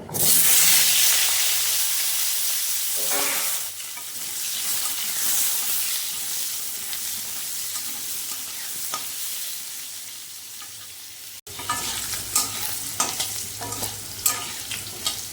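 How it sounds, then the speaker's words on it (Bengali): Potatoes and whole cumin frying in hot oil in a home kitchen, stirred now and then: a steady loud sizzle with scraping stir noises and a brief break near the end. "আর আলুগুলো ভেজে নেব"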